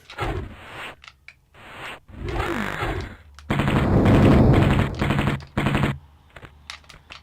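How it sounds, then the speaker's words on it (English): Enemy gunfire in the Sega Saturn version of Tomb Raider, set in Atlantis: several loud bursts of rapid game shots, separated by short pauses, with a long dense volley near the middle and sharp single cracks at the end. "Oh God, shooting at me, are you? Stop shooting at me."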